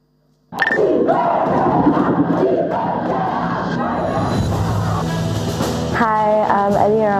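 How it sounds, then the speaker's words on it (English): An audience at a student conference bursts suddenly into loud cheering, yelling and applause that stays dense and sustained. Shouts and whoops rise near the end. "round of applause for them."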